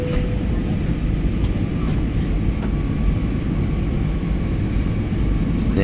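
Inside a presidential plane preparing to land, a steady loud low-frequency cabin roar of engines and airflow drones on continuously, with no speech.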